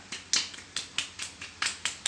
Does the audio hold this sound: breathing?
no